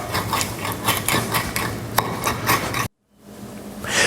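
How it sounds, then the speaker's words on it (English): A knife chops flat leaf parsley on a board with a quick, even run of close, crisp thuds, then stops abruptly and goes quiet. "What I'm going to do is I'm going to chop this up pretty good."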